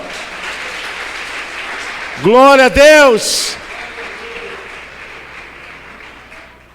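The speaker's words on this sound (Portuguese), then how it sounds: "Você pode aplaudir o Senhor?" A church congregation applauds steadily throughout, with a voice calling out over the clapping partway through.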